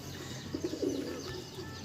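A pigeon coos softly nearby in a short rolling burst over a faint steady background hum.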